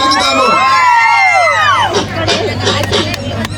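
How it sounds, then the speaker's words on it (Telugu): At the Araku cold festival, a crowd cheers to welcome a Dhimsa dance team. High, sweeping whistle-like tones ring over loud, close crowd noise full of shouts and chatter. "గట్టిగా చప్పట్లు కొడుతూ వారిని ఆహ్వానం పలుకుతాము"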